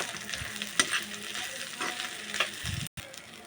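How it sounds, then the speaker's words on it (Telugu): Fried rice seasoned with salt and chili powder being stirred in a hot pan, a steady broadband sizzle broken by several scraping spoon strokes, with one brief dropout near the end. "ఈ రైస్లోకి రుచికి సరిపడా సాల్ట్, చిల్లీ పౌడర్ కొద్దిగా వేసి బాగా కలుపుకోవాలండి"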